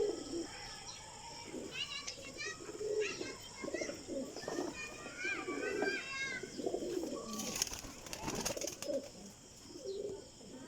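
Colored breeder pigeons coo softly in repeated low throaty calls, with a bright whistle and flutter partway through and faint voices in the background.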